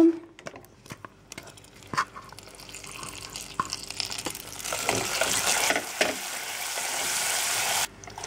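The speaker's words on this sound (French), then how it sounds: "J'ajoute mes morceaux de beurre." Butter pieces dropped into hot blond caramel in a pan, sparse clicks and taps building into a strong hissing sizzle that swells and holds loudly before cutting off near the end.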